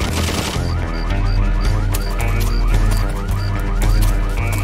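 Gunfire in a video game: rapid, loud bursts of shots sounding as a fusillade, mixed with game music and electronic tones, with no voices.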